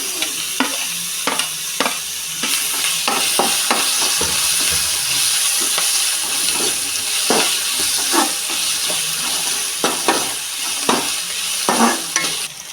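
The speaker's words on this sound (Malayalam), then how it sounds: "ഇഞ്ചി വെളുത്തുള്ളി പേസ്റ്റ് ഇട്ട് നന്നായിട്ട് ഇളക്കി" Ginger garlic paste sizzles and fries in a pan for potato curry, with a steady hiss under repeated scraping strokes of a spoon stirring it, close and fairly loud throughout.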